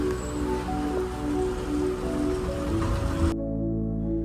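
Rain pours steadily during a bus ride through hill country toward Meghamalai, a dense hiss over low engine rumble, unbroken until it cuts off abruptly near the end, with no talk.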